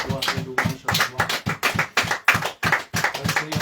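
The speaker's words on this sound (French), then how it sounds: "Nous applaudissons la parole de Dieu." A church congregation applauding, rhythmic hand claps in an even, repeated beat from a group, fairly close and loud, with faint voices mixed in.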